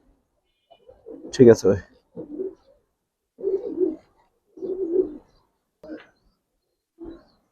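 Old-generation Giribaz pigeons in an Old Dhaka loft give a series of low, throaty coos in separate bursts with pauses between, close by, alongside brief talking.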